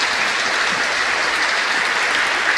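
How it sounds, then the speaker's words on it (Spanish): A loud, continuous burst of applause from the audience at a Catholic conference in Mexico, many hands clapping at once into a dense, even roar that holds steady from start to finish. "En nuestra gratitud con nuestro Señor le damos un fuerte aplauso."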